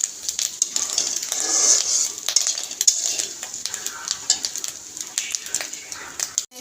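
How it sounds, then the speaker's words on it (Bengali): Small dried shrimp fry in hot oil, giving a continuous bright sizzle and crackle with frequent clinks and scrapes of a utensil against the pan, close and fairly loud, with no talking. "এই যে গুঁড়া চিংড়িগুলো তেলের উপর ভাজতেছি"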